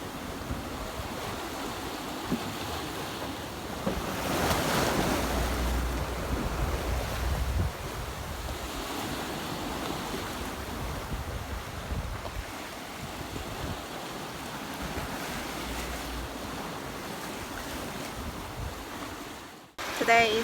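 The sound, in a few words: ocean waves and wind during an Atlantic sailing crossing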